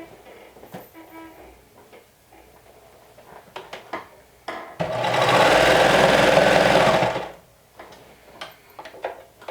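A serger stitches the side seam of a Lumberjack garment, running in one steady, loud mechanical whir for about three seconds between scattered handling clicks and taps.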